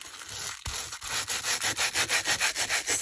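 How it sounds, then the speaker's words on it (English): Rhythmic scraping of an abrasive rubbed back and forth over the glossy edge of a book, a steady series of close, brisk strokes with no talking. "scuff the edge"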